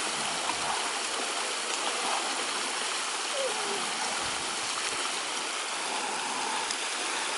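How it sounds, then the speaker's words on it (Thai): A warm stream at the Pai hot springs flows steadily with continuous broad rushing and gurgling water, even and close throughout with no voices. "ไม่ใช่ลำธารธรรมดาครับ แต่เป็นลำธารอุ่น"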